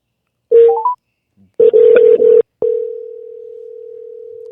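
Short electronic keypad beeps, then a longer burst of tones, followed by a steady telephone tone that continues to the end.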